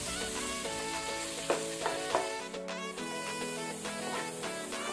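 Small pieces of a large carrot frying in ghee make a soft, continuous sizzle with a few stirring clicks, partly masked by steady background music.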